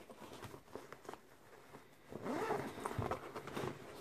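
A zipper on a compartment of a new handbag is drawn open, giving a quick rasping run of close zipping that rises over faint handling noise.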